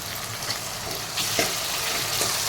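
Tomato with ginger-garlic paste sizzles and spits in a hot pan for urundai kuzhambu, with a steady bright frying hiss and a few louder crackles as the mixture is stirred.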